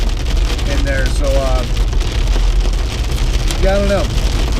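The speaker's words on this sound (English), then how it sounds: "you can hear it starting to pour again" Heavy rain pours steadily during an October thunderstorm in Arkansas, a dense, constant wash of noise that fills the whole stretch, with a person's voice rising briefly over it twice.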